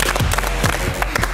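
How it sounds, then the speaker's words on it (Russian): An audience at a live stage show applauds the DJ as he is introduced, a dense burst of clapping over a low, steady background hum. "Тебе аплодисменты!"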